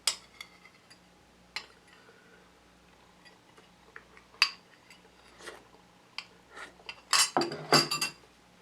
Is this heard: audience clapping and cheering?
no